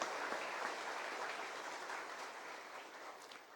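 A broad, steady wash of crowd applause at an Easter Mass, many hands clapping densely, holding at an even level for several seconds before easing slightly.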